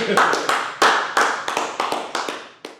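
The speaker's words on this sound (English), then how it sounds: "Go ahead, get the early claps." A small group claps in a sparse, uneven burst, about a dozen sharp, close individual hand claps spread over three seconds, some landing together, others alone, before trailing off.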